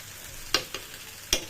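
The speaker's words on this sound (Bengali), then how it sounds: "ঘি দিয়ে ভালো করে নাড়িয়ে চাড়িয়ে নেব।" Food fried in ghee is stirred in a pan, with a few quick scrapes over a soft background sizzle, and no one speaks.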